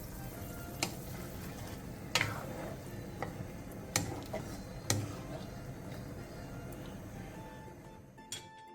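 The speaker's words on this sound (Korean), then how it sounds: "센 불에서 끓여주세요" Braising sauce of water, soju, soy sauce, oligosaccharide syrup, sugar, eggs and minced ginger boils over high heat in a pot, giving a steady close sizzling bubble with occasional sharp ticks and pops and no talk.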